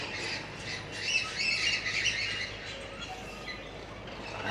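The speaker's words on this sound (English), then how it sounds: "there's a lot of birds come in through here, a lot of water birds" Water birds at a lotus pond in Zhaoqing, China, give harsh squawks and scattered chirping calls over a soft outdoor background, clustered in the middle of a few seconds, moderately distant.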